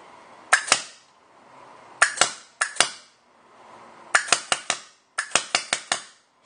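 A closed-bolt Cocker Ion paintball marker firing, sharp loud cracks with short gas bursts, in singles, pairs and rapid strings of four or five, with quiet gaps between them.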